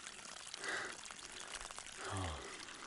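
Snowmelt water pours and trickles steadily close by in Mount Rainier National Park, with a fuller gush near the end and light outdoor noise around it.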